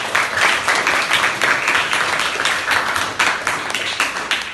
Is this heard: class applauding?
yes